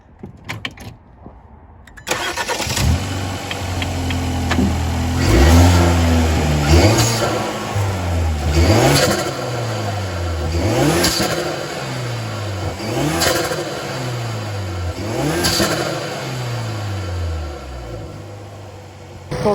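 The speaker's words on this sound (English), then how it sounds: "we're going to do a little sound test for you and give a few revs." A Hyundai i30 N engine fitted with a Forge induction kit and turbo elbow revs repeatedly, about six sharp rises and falls in pitch with a throaty intake roar, loud and close, after a brief quiet start.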